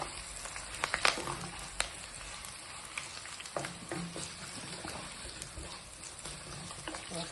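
Small onions and curry leaves fry in a pan with a continuous crackling sizzle, broken by sharp pops and the scrape of stirring, fairly close and moderately quiet.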